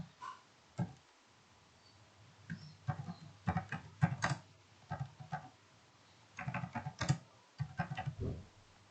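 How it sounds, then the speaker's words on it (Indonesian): Keys clacking on a computer keyboard while typing text into Microsoft Word, irregular bursts of close, crisp keystrokes with short pauses between runs. "Misalnya kita akan mengetikkan sesuatu, langsung aja diketik."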